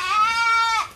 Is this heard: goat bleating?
yes